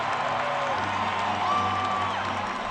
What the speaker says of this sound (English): As the Yankee fans applaud and clap with approval.